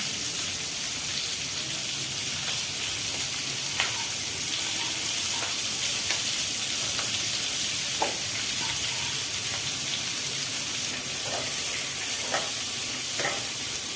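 Sliced onions frying in hot oil with cumin seeds for an egg dopeyaja, a constant loud sizzle close by, broken by occasional soft scrapes and taps as they are stirred in the pan.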